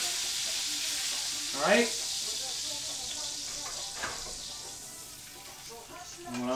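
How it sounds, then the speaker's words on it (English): A steak edge sears in a hot pan with a steady sizzle throughout, while a person speaks briefly over it. "make sure to give the other edge that hasn't seen the pan yet a final sear"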